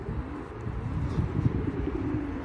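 A pigeon coos softly in low, rolling pulses over a quiet outdoor background.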